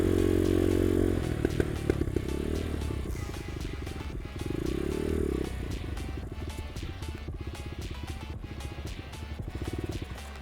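A dirt bike engine with a faulty throttle and no pull drones at steady low revs, close and continuous, with clattering mechanical noise and a brief rise in pitch partway through.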